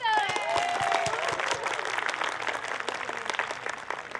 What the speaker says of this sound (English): Round of applause for Amanda.